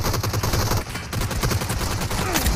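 Rapid, dense automatic gunfire in the BGMI Gungame mobile video game, loud and continuous bursts crackling close with barely any pause across the short stretch.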